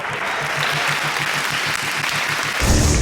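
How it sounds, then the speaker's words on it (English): Audience applause at a stand-up comedy show, a dense, steady wash of clapping from a large crowd that runs for a few seconds before a louder burst of noise at the end. "How about a nice round of applause for Mr. Bill Hicks?"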